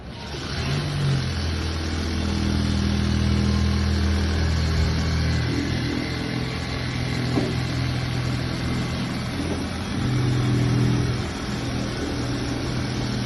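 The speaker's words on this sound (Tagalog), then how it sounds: "Pwede ka na magtaas ng RPM" Car engine held at idle, then raised in RPM during a detailing and ceramic coating job, a steady mid-pitched drone that rises and swells in a couple of longer revs.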